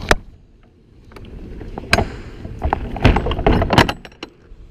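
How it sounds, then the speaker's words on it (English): The spring-loaded metal roll-up cargo door of a 26 ft U-Haul box truck on a 2017 Ford F-650 V10 rattles and clanks as it is pulled down, with several sharp knocks and a final thud, close by. "Door pulls nice and easy."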